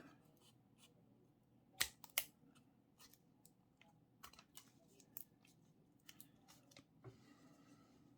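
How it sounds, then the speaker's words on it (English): Scissors cutting paper for a snowman snowflake Christmas craft: a string of crisp, close snips, several sharp and loud early on, then lighter irregular cuts, in a quiet room. "And then we're going to cut across at an angle and up."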